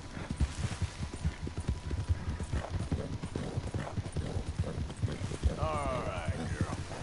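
Horse hooves clip-clop in a steady, rapid rhythm in a video game, loud and close, running continuously under a talking voice, with a brief whinny-like sound rising near the end.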